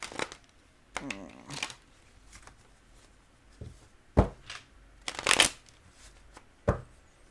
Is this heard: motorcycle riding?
no